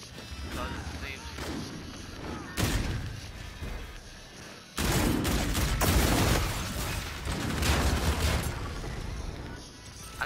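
The EBR-800 rifle fires in a video game in a series of heavy booming shots, some spaced apart and others in quicker bursts, each loud and close with echoing tails.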